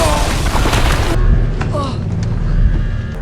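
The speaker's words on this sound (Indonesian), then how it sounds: "Tiba-tiba terjadi ledakan." A deep, loud explosion booms in The Last of Us, a heavy low rumble filling the whole moment with a dense blast of debris-like noise.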